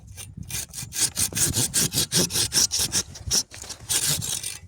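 A hand saw cuts through a tree branch about 5 centimetres thick in quick, rhythmic back-and-forth strokes, close and loud, with a brief pause midway and no speech.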